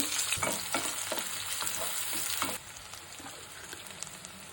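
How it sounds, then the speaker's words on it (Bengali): Onion with crushed cardamom and cinnamon frying in mustard oil and beef fat, a loud, steady sizzle with repeated scraping stirs that quietens partway through. "মাংসটা যে চর্বি দিয়ে ভিজিয়ে রেখেছিলাম ওইটা অল্প একটু দিয়ে দিব, অল্প সরিষার তেল দিয়ে দিব, এলাচিটা একটু থেতো করে দিছি"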